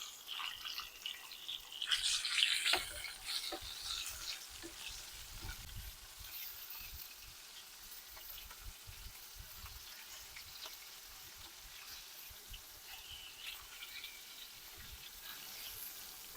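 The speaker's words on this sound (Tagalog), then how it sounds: "Kapag nagluluto tayo ng squid and shrimp, tingnan lang natin agad and balik-balik na rin natin." Squid and shrimp sizzle in a hot pan for a seafood black pasta, a steady low crackle with a brief louder burst of spatter and stirring early on, then a quiet, even frying hiss to the end.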